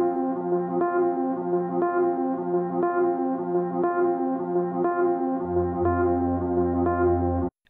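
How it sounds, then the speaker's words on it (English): Atmospheric sample from the 0G Cuckoo Land Ghost in the Machine pack, a steady sustained tonal pad with gentle pulsing accents and a deep low layer entering near the end before a sudden stop; no voices. "That's the original sample, also from the 0G Cuckoo Land Ghost in the Machine sample pack."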